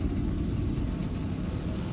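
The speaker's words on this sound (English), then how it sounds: "Engines are fired, ready to go racing here in Texas." Race car engines rumble together at the start of a stock car race on a 1.5-mile Texas oval in the NR2003 racing game, a dense, steady low drone with no voices.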